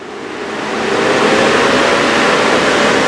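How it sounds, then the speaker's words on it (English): Cooling fan of a 2020 Lamborghini Huracán EVO engine spinning up, a broad steady rushing whoosh that swells over the first second and then holds loud and constant, close by. "pretty impressive fan on this car to keep that engine cool"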